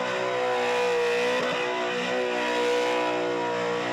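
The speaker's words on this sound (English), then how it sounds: "Big revs out of that naturally aspirated LS." A naturally aspirated LS V8 car engine revs hard and holds at high pitch during a burnout competition, a loud, sustained mechanical roar that stays strong throughout.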